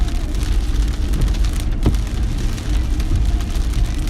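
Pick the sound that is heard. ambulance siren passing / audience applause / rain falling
rain falling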